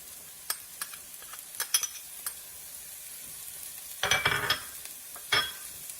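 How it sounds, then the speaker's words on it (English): Food browns in a pan over medium-high heat, giving a quiet, steady sizzle broken by scattered crackles and a couple of louder bursts of spitting and stirring. "Turn up the heat from medium to medium high. I'm going to let this brown for about 3 minutes or so"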